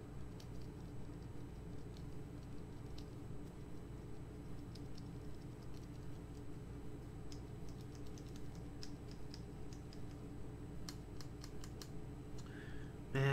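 Keys on an EnjoyPBT 75 mechanical keyboard with a PBT spacebar are pressed to test the stabilizers, giving faint, scattered clicks and taps over a quiet background.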